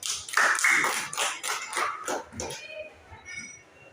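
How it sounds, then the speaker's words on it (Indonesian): Children in a classroom clap their hands in a short, loud burst of applause lasting a couple of seconds, then fade out as a teacher's voice continues over it. "Tepuk tangan dulu buat Melin."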